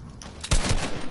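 A rifle shot cracks out in a video game, one sharp loud report followed by a second quicker pop and a brief echoing tail, with no talking.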